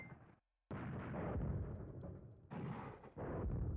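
Artillery fire in the World War II strategy game Command Ops 2, heavy booming blasts with a rumbling low roar, a brief silent gap, then sustained loud barrages swelling again in bursts.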